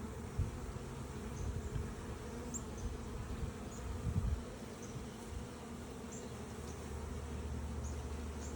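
Bees buzz steadily at a hive, a faint, continuous hum holding throughout with no talking.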